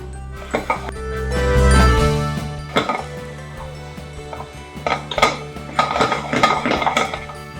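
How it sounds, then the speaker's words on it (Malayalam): A spoon clinks and scrapes against a bowl while chilli and coriander powder masala is mixed, irregular close knocks and rattles growing busier toward the end, with a low hum early on. "ഇനി നമുക്ക് നന്നായിട്ടൊന്ന് മിക്സ് ചെയ്ത് കൊടുക്കാം."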